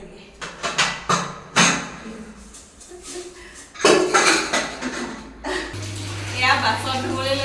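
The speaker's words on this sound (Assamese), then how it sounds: "এয়া বাচন ধুবলৈ লৈছোঁ এইবাৰ" Dishes, pots and pans clatter and clank during washing up in a home kitchen, sharp irregular knocks close by, with a voice speaking and a steady hum near the end.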